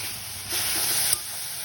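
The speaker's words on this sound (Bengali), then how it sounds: "এখন ভালো করে নাড়িয়ে নেব" Kalai greens with eggplant being stirred in a hot pan, a continuous hiss and sizzle with a brief louder scraping swell in the middle, close and steady with no talking.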